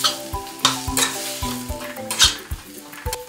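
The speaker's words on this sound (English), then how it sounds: "And we stir it up again." Ground meat sizzles steadily in a hot pan for Thai pad kra pao while a utensil stirs it, with repeated scraping knocks against the pan, close and fairly loud, no voices.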